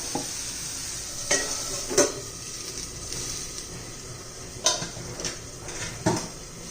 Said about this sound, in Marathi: पुन्हा व्यवस्थित मिक्स करून घेऊया आता हे मसाले आणि टोमॅटो